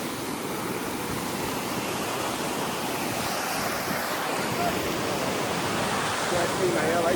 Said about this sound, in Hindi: ये पानी सारा गौमुख से गंगोत्री जा रहा है